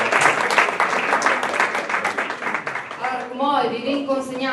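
Applause from the audience at a certificate ceremony for Friulian language and culture courses, many hands clapping in a loud, fairly close burst that gradually thins out, with voices talking over the tail end.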